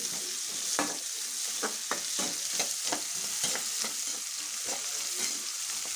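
Drumstick leaves frying in a pan, a soft continuous sizzle with repeated scraping stir strokes at an irregular pace, close-up and quiet, with no voices.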